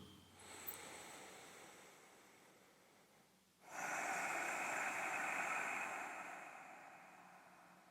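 Slow, deep breathing during a guided meditation session: a soft, drawn-out inhale, a pause, then a long, louder, hissing exhale, close and with no talking.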